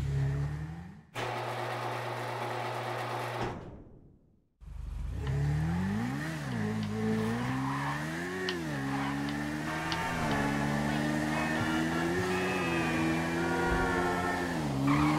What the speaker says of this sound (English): Let's take the bike for a spin again.